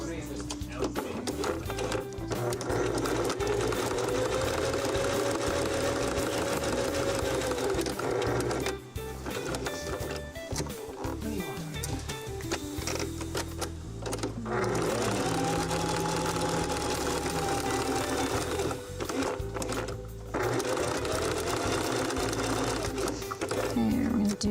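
A sewing machine runs a zigzag stitch on fabric, a steady close mechanical whir that continues almost without pause, with a voice talking over it throughout.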